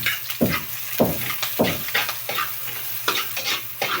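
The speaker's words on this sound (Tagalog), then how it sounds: "Ilalagay na natin yung sibuyas." Onions fry in plenty of hot oil, a close crackling sizzle broken by repeated scraping strokes from stirring at an uneven rhythm, over a low steady hum.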